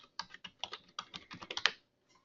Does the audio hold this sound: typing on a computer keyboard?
yes